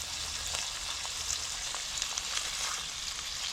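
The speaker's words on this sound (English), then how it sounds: "I like to keep the fish moving a little bit just so it doesn't stick to the pan" Sand perch and sheepshead fish frying in a pan, a dense, steady sizzle with crackling pops, close and loud with no one talking.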